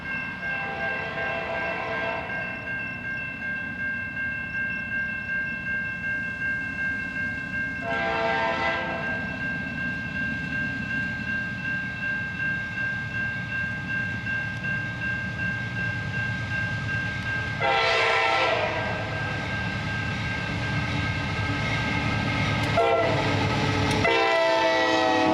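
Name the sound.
Norfolk Southern NS-120 manifest freight train passing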